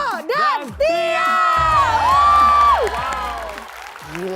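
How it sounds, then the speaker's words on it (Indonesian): A crowd at a grand final show erupts in cheering, whoops and shouting over clapping, loud and lively, with voices rising above the noise. "boleh kita beri tepuk tangan yang meriah untuk Dewo dan Tia."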